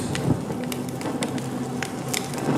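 Rain falls in the video game Honkai: Star Rail, a continuous soft hiss of steady downpour with scattered sharper droplet taps, heard alone without talk.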